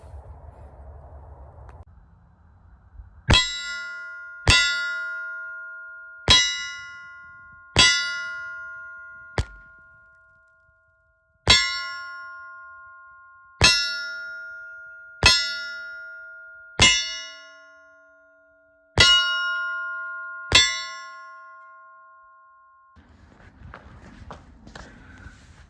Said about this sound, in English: we're going to shoot a mag full of these downrange of some steel of these semi-wad cutters just to check for function